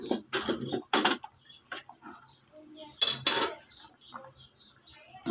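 A spoon scrapes and knocks against a cooking pot of khichuri in short, separate bursts, with quiet gaps between the clanks and a soft low hum behind them.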